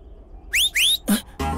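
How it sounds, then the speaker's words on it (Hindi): Two rising whistles in quick succession, each a bright upward-sweeping tone, loud and close, followed by a short thud and a burst of noise, in a tense kidnapping scene from a Hindi-dubbed action film. "किस लिए सीटी बजा रही हो?"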